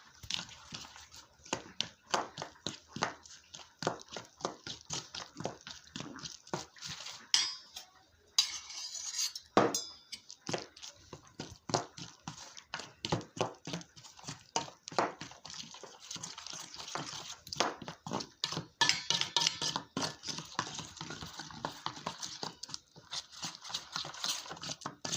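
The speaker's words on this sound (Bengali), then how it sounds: "ভালো করে মিশিয়ে বেটার বানিয়ে নেব।" Batter being mixed with water in a bowl for aubergine chops: rapid, uneven clinks and scrapes of a utensil against the bowl, close and continuous with brief pauses.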